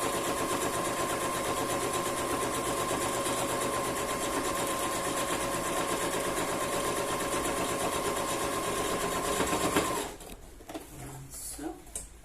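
A sewing machine runs steadily for about ten seconds, a fast rhythmic whirring stitch while closing a patchwork bag, then stops, leaving faint handling noises.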